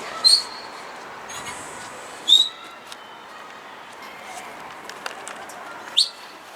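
Birds chirp in a few short, bright calls spaced a couple of seconds apart over a quiet, faintly noisy outdoor background.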